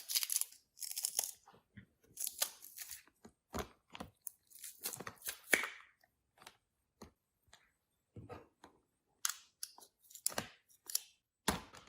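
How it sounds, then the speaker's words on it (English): Two garlic cloves are crushed into a lime-juice mojo marinade, giving a series of close, sharp crunching and squeezing bursts separated by brief silences. "crush in 2 garlic cloves"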